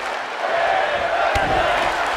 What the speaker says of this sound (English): The crowd loving what they're seeing here tonight